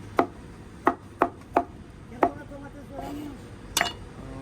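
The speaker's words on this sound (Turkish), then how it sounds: "Şimdi güzel domatesleri doğradı Ahmet amca." Sharp knife chops through tomatoes on a cutting board, six distinct thuds at uneven intervals, close by, with faint kitchen clatter between them.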